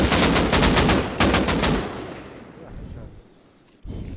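Rapid automatic AK rifle fire in the video game Rust, several sharp bursts of loud shots in quick rhythm over the first two seconds, then a brief echoing tail and one more shot near the end.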